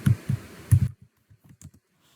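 Fingers tap out text on a computer keyboard while formatting in Word 2019: a few louder keystrokes, then a quicker run of soft, close clicks, with no speech.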